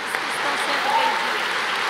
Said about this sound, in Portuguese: Vamos recebê-los com uma salva de palmas em nome de Jesus